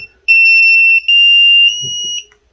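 A SKYRC B6neo charger emits a loud, close, piercing electronic beep sequence as it starts charging a six-cell lithium-ion battery, a sustained tone briefly interrupted and then stepping slightly in pitch, with faint handling noise near the end.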